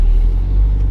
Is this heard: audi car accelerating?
yes